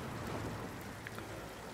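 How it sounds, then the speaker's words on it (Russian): Steady rain falling in Star Wars Jedi: Fallen Order on PlayStation 5, a dense, even hiss held at a constant level throughout, with a couple of faint drip-like ticks near the end and no voices. "Смотрите, как дождь стекает, ну, капельки дождя, с его, получается, одежды."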